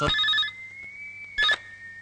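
A telephone rings at midnight: two bursts of electronic ringing with a steady tone between them, loud and close, with no one speaking.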